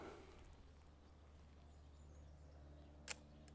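A single crisp mechanical click of a large format camera shutter firing at 1/25th of a second near the end, close and brief, in an otherwise quiet setting.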